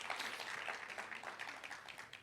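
A church congregation applauds the Lord during a Spanish-language sermon, a faint, even patter of many hands clapping at a distance and sustained without a break.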